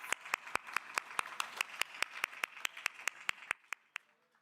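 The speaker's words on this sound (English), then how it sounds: "So another round of applause for yourself." A single pair of hands claps steadily at a graduation ceremony, about fifteen crisp evenly spaced claps that slow and fade out, thin and close rather than a full crowd.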